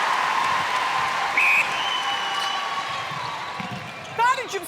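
A crowd applauds during a South Africa v England netball match at the 2019 Netball World Cup, with continuous clapping under a commentator's voice and a whistle-like tone sounding briefly.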